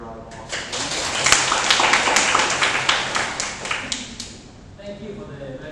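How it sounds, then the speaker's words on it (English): A lecture audience at UTCC in Bangkok bursts into steady clapping to welcome a guest speaker, the applause swelling and then thinning out under murmuring voices. "Give you a round of applause."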